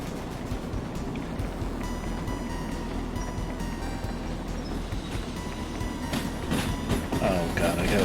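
Steam locomotive rolling along in the train simulator Derail Valley, a steady rumble with rail clatter that grows louder near the end, with a voice briefly talking over it.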